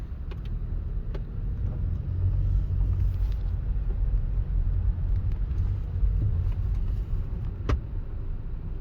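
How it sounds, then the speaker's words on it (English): A 2010 Dodge Caliber out on a test drive, its engine and road rumble a steady low drone from the cabin, with a few faint ticks and clicks over the continuous noise and no talking. "So, we will go take this thing for a drive."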